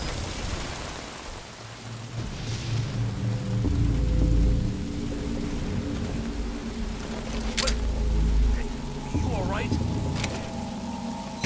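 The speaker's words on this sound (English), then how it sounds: "That rain just won't let up." Steady rain in Metal Gear Solid V: Ground Zeroes, a hiss running throughout beneath deep rumbling engine or thunder swells and a few sharp mechanical clicks.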